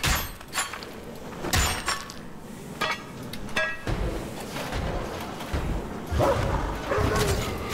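Dog barking in the Wolfenstein video game, several sharp barks scattered among clanks, breaking sounds and other game noise, moderately loud with no speech.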